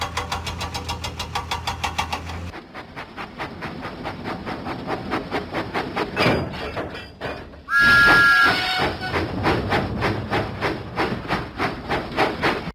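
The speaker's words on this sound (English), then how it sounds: "Huffing and puffing, Thomas set out for Knapford Station." A cartoon steam locomotive from a Thomas and Friends children's game chuffs in a steady rhythmic beat, loud and close, with a bright whistle blast partway through and music-like tones at the start.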